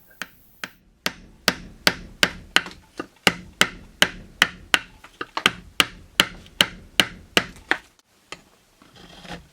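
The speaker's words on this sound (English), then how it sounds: "With this wide chisel, I can remove more wood in a few seconds than I do in days of work with my normal carving knife" Sharp wooden knocks from a mallet driving a wide chisel into a woodblock, struck in a steady rhythm of about twenty close, loud blows with brief pauses, carving out a print block.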